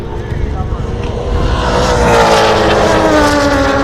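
A Ford Escort improved production race car at speed on the Phillip Island circuit, its engine a loud, steady roar that climbs in pitch, heard under a commentator's talk.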